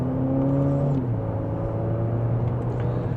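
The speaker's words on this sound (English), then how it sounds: "sport mode second gear, here we go." A Nissan Murano pulls hard in sport mode in second gear, its engine whirring up in pitch, then dropping briefly before climbing again, heard steadily from inside the cabin.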